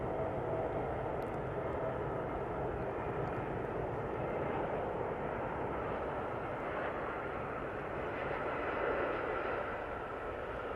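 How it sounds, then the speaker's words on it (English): An SAS Airbus A320neo airliner from Stockholm coming in to land at Manchester Airport, a continuous broadband engine roar, moderately loud and steady, with no talking. "SAS A320 Neo now coming in. This one from Stockholm in the proper new livery."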